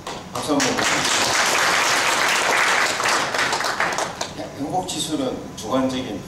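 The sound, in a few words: conference audience applause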